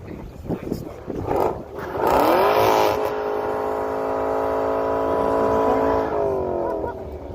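Cars in a drag race at an airstrip, a G80 against an M5, with engine noise rising into a loud, sustained acceleration whose pitch climbs and then holds, heard from nearby with faint background chatter.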